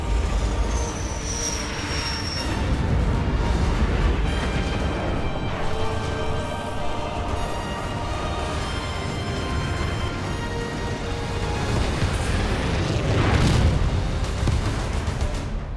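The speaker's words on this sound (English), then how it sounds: "Isabel, launch Archer missiles now." Archer missiles launching and exploding in the Halo Wars 2 video game, a loud continuous roar of rocket fire and blasts with rumbling low end, swelling again toward the end, no talk.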